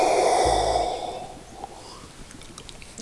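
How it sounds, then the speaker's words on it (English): A yawn from a character in the Grandia video game: one long, breathy exhale that starts loud and fades away over a couple of seconds into quiet background. "The yawns are catching me."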